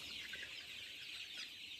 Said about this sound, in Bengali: মুরগি হাঁপাইতেছে, যদিও সমস্যা নাই